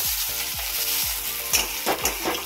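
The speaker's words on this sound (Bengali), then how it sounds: "মিষ্টি কুমড় ভাজা হচ্ছে" Slices of sweet pumpkin sizzle in a pan, giving a steady crackling fry with a few brief scraping stirs near the end, close and alone.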